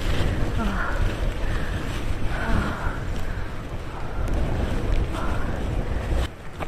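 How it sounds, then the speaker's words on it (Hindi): Continuous blustery cold wind rushing loudly past the microphone on a Valley of Flowers trek in Uttarakhand, a constant outdoor roar with faint rain pattering underneath. "बारिश फिर से स्टार्ट हो गई है एंड ठंडी ठंडी हवा चल रही है"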